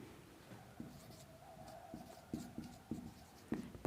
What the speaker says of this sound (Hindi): तो आइए लिखते हैं।